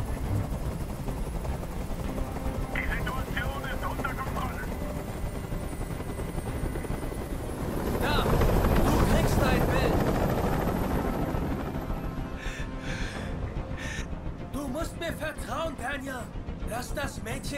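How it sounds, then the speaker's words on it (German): A helicopter hovering in the video game Detroit: Become Human, rotor thumps and engine roar continuously, swelling louder midway, with game voices and effects layered over it. "Ich halte diesen Krach nicht mehr aus. Dieser Helikopter soll verschwinden."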